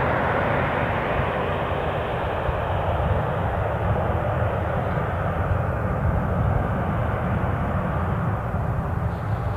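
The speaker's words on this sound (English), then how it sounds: "this outgoing Tenerife flight, which should have gone at 8:45, is on the roll" A departing airliner on its take-off roll for Tenerife at Newcastle International Airport, a steady loud broadband engine roar holding throughout with no talk.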